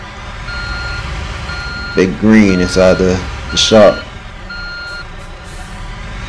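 Steady reversing beeps from a truck in Construction Simulator 2, a thin high repeating tone that runs through the whole stretch over a low engine hum while someone talks in the middle.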